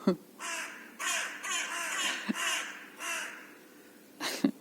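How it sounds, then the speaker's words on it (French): Crows caw in a series of loud, harsh calls, about five drawn-out bursts spaced roughly a second apart, fairly close, with a sharper final cluster of caws at the end. "à l'aide des corbeaux"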